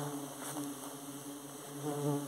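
A strong swarm of stingless Borá bees (Tetragona clavipes) gathers at a hive box, giving a steady, close, layered buzz with a few individual bees droning louder, without speech.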